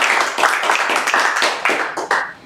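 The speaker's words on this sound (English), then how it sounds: "Let's give that a round of applause." A burst of clapping hands at a Global Game Jam 2025 closing presentation, dense and close, swelling and fading in uneven waves for a couple of seconds.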